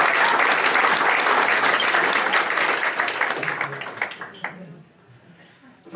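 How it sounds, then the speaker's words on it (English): Audience at a Middle East peace gala applauding: dense, loud clapping fills the first few seconds, then thins into scattered claps and fades toward near quiet, with a few voices heard in the crowd. "We can applaud that if you want"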